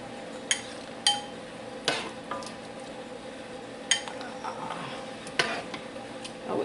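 Spoonfuls of Texas red chili made with mild sweet peppers are ladled into a bowl: a handful of sharp metal clinks and scrapes of a ladle against the pot and bowl, spaced irregularly over quiet kitchen background.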